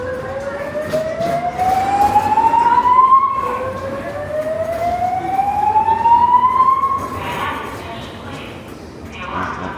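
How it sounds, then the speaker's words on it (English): A Las Vegas Strip hotel emergency alarm wails in two long rising siren sweeps, loud and repeating over busy background noise, then trails off. "There goes the old emergency alarms."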